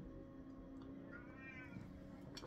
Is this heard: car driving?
no